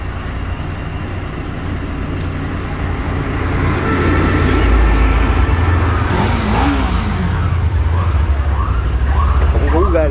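A siren horn on a motorcycle, a wavering electronic wail rising over a running engine close by, growing louder midway while voices talk in the background.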